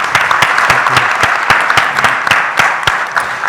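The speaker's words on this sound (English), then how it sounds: "Give them a round of applause," Loud, sustained applause from a conference audience at a corporate tax knowledge-series event in the UAE, with dense steady clapping and a few sharper individual claps standing out, no speech over it.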